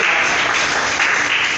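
Congregation at a church teaching service claps in a dense, loud burst of applause, brief and continuous with no talk over it.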